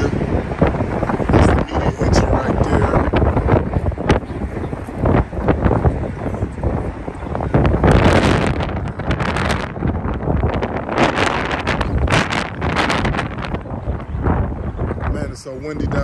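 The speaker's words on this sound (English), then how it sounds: "it's so windy down here." Strong wind buffets the microphone in loud, gusty roars that rise and fall throughout, with a voice faintly present under the rumble, at Tower City in downtown Cleveland, Ohio.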